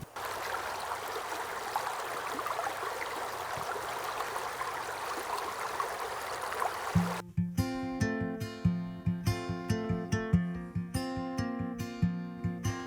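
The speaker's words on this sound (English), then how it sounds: "the sound of this creek flowing pretty steadily right now because of all the rain we've had" A creek running steadily after heavy rain makes a continuous broadband rush of flowing water, close and even, then gives way abruptly to music partway through.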